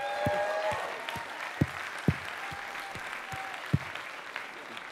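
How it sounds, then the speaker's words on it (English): Scattered audience applause at a talk event on music and psychedelics, a handful of distinct claps rising above a steady room hum, with no one speaking. "And another round of applause, please,"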